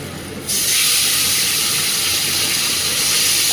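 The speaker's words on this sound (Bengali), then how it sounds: "ইলিশ মাছের মাথা দিয়ে মাথা ভাজা হচ্ছে" Hilsa fish head frying in oil tempered with whole cumin, bay leaf and green chilli, a loud, bright, continuous sizzle that jumps in sharply after a quieter first half-second and then holds steady.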